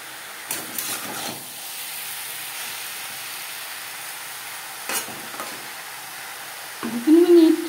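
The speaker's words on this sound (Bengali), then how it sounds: "লবণ হলুদ ডাঁটার সাথে বেশ ভালো করে মিক্স করে দেবো।" Ridged gourd-style stems are stirred in a pan with turmeric and salt, giving a soft steady sizzle with a few scraping stir strokes near the start and middle, then louder clattering near the end.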